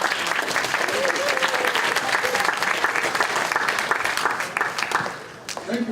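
An audience claps to welcome a speaker at a leadership lecture, lively close clapping with distinct individual claps, fading toward the end as a voice begins.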